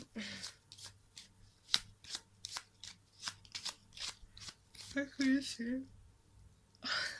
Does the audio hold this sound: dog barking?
no